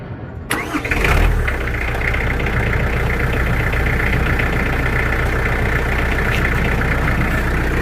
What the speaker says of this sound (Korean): 시동을 걸어 가지고 충전 전압이 잘 나오나 보겠습니다